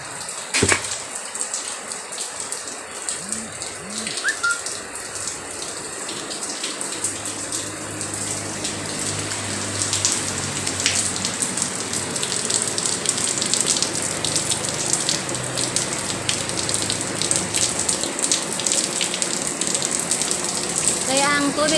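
Storm water gushes through a hole in a concrete wall, a continuous close rushing flow that builds and stays loud, with someone speaking briefly over it.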